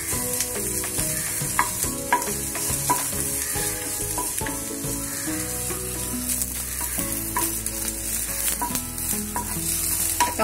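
Onion and bay leaf frying in oil for Kolhapuri misal, a constant close sizzle with repeated spoon stirs and scrapes against the pan, no voices.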